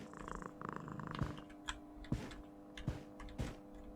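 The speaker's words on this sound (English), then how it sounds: "It was a black cat on a black chair." A black tuxedo cat with green eyes sitting on a black chair in an after-hours office video game purrs in a soft, steady rumble, broken by a few faint clicking ticks, with no talking.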